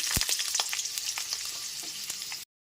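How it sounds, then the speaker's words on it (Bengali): Diced potatoes dropped into hot oil crackle and sizzle loudly and steadily, with a few sharp pops and stirring clicks, close up, before the sound cuts off abruptly near the end. "প্রথমে আলুগুলোকে ভেজে নেব ডুমো করে কেটে রাখা আলুগুলোকে দিয়ে দিচ্ছি"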